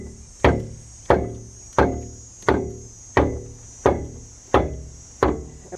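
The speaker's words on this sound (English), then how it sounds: "we might have to take a wood block and a hammer and actually like pound on this thing" Hammer pounding on a wood block to drive a sleeve through a sewer line past tree roots: eight sharp, evenly spaced wooden thwacks about 0.7 seconds apart, close and loud, over a steady background hum.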